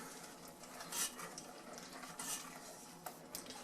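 Thick dessert batter being stirred and folded in a bowl, soft, faint wet scrapes and squelches recurring at an uneven pace, each stroke a brief muffled swish.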